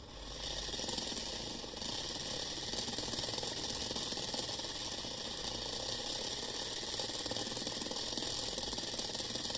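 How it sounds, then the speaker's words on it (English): A homemade DC motor spins at high speed with a steady, dense mechanical buzzing rattle that holds constant for several seconds, close and without any talk. "see the working of this motor"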